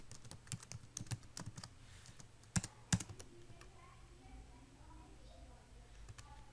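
Someone types code on a computer keyboard in a series of light, close key clicks and a few sharper taps, while someone talks quietly in Hindi-Urdu over the typing.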